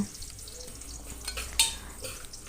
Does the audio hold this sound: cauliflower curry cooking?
yes